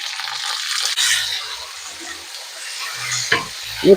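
Tomato sizzles and hisses in a hot pan with softened onion as it is stirred, with a few scraping clatters from the utensil.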